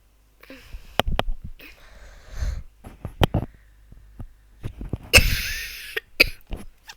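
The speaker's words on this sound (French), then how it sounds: "Oh, désolé, je tousse" A commentator of a Rocket League esports match, Team Falcon versus Escorp, coughs several times in sharp, close bursts, with quiet gaps and brief noises between them.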